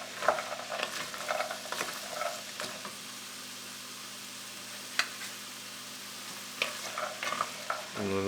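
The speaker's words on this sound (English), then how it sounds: "Let's just stir that in." Soaked, rinsed red kidney beans are stirred into a pot for Hungarian bean soup, a moist shuffling and gentle knocking of beans against the pot over a steady background hum, with a few crisp taps from the spoon.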